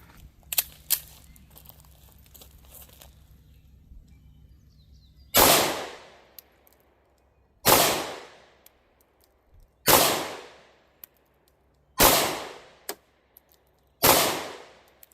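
Five loud, sharp 5.7x28 Speer Gold Dot pistol shots are fired over a chronograph, each a sudden crack with a short ringing tail, spaced about two seconds apart after a few faint clicks.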